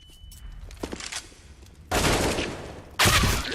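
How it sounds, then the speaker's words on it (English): Gunfire in the video game Counter-Strike: Global Offensive during a pro league match, bursts of rapid shots, with two loud, dense volleys following quieter scattered pops. "He's landing some headshots at least"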